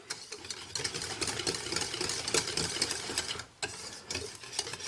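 A mixture in a pot on a cooktop is stirred briskly and continuously, giving a dense scraping, whirring texture with a brief pause partway through; no speech.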